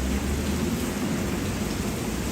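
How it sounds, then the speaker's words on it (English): Heavy rain pours steadily in Athens, with a dense, continuous roar of falling water and a low rumbling undertone suggesting thunder, loud and unbroken throughout with no voices. "This is a normal day in Puerto Rico, this type of rain, but I did not expect this to happen in Athens."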